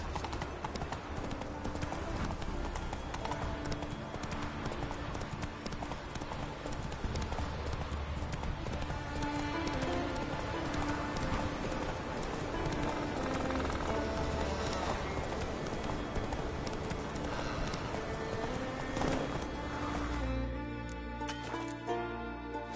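Hooves of Roach, a horse in The Witcher video game, clip-clopping at a steady galloping rhythm, loud and close over game music and ambience, ending with a brief change near the end.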